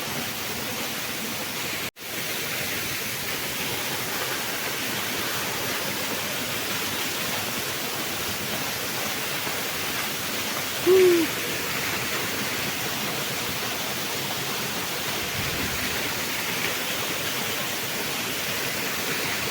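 Steady rushing roar of Langkangtui waterfall near Chotolangpher village, Umrongso, constant and unbroken throughout, with a brief dropout near the start.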